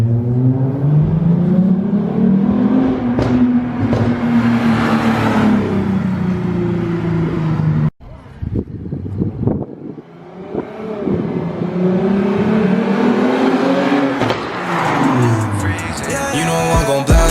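A Lexus IS350 F Sport fitted with a new intake accelerates hard, its engine revving up in rising sweeps and dropping off, loud and close, with a brief lull midway before pulling strongly again.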